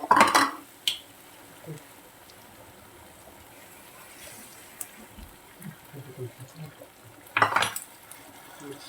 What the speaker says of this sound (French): On va bien mélanger avec les ingrédients là.